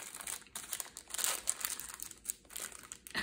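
Tissue paper crinkles and rustles in bursts while a gift is unwrapped, close and fairly loud, with sharp crackling peaks and brief pauses between handfuls and no talk.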